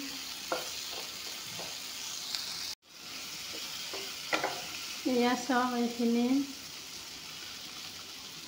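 Onion and green chillies fry on a low flame with a soft, steady sizzle and a few utensil clicks, while someone speaks briefly over the pan in a close, quiet kitchen.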